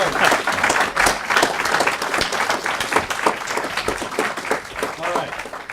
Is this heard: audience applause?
yes